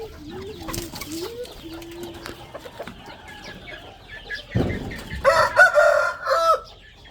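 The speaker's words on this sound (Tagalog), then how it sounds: "Yan ang daming manok ko." Chickens at a home lot cluck softly, then a rooster crows loudly and close; a brief rustle comes before the crow.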